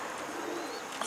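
Soft continuous cooing from a pigeon in a Turkish tumbler loft, a low warbling murmur over about a second, with no voices.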